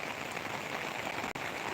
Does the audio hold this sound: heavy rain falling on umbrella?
yes